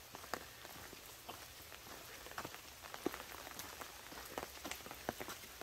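Steady rain falls at Buseoksa temple, a soft continuous patter on surfaces with scattered louder drips and taps, close and gentle, with no talking.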